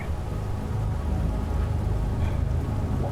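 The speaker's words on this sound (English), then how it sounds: "It's raining." Steady rain falls in the video game Manifold Garden, a dense, even hiss with low rumbling underneath that holds at constant loudness throughout, with no voices.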